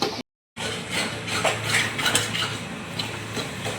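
Tomatoes fry in oil with onion and green garlic in a pan for pav bhaji, a spatula scraping and clinking against the metal over a steady sizzle after a brief silent gap.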